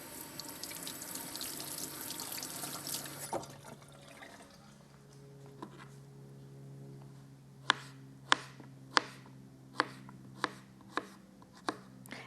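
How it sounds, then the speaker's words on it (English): Tap water runs into a kitchen sink while zucchini bought at a grocery store is rinsed, a steady close wash that fades, followed by a series of sharp evenly spaced knife chops on a cutting board. "This one needs to be washed off more."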